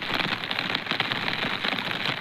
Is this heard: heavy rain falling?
yes